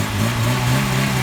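A 1990 Tofaş Şahin car engine rumbles close by, a steady, full low drone held for about a second with no voices.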